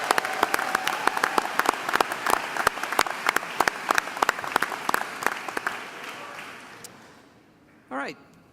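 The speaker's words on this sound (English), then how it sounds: "Let's give him one more round of applause." A university convocation audience gives a round of applause, sharp claps over a broad wash that fades out near the end, followed by a brief voice.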